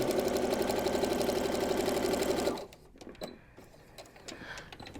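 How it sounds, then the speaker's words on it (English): A sewing machine stitches a quarter-inch seam on a bow clutch bag with a fast, even mechanical whir, then stops abruptly halfway through, leaving faint handling clicks and rustles. "Back under the sewing machine. Pretty sides are touching. Start with a back stitch and sew all the way down at 1/4 inch."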